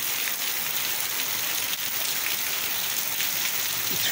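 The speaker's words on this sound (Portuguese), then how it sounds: "Uma chuva pesada, chuva forte." Heavy rain pours steadily in a dense, continuous hiss, loud and close, with no pauses, in Passira, Pernambuco, in northeastern Brazil.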